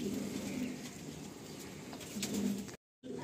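Pigeons cooing softly in a rooftop loft after rain in Kolkata, low repeated coos close by with faint chirps and a brief dropout near the end.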